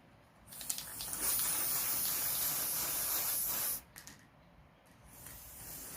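Aerosol spray hissing steadily over dried flowers for shine, a continuous close burst of about three seconds followed by a couple of short puffs.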